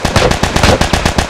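Rifle fire in a video game: a rapid, steady burst of sharp shots at close range, loud and evenly spaced, with no talking over it.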